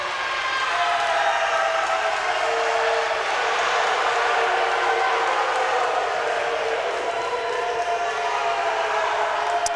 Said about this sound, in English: crowd did not like that call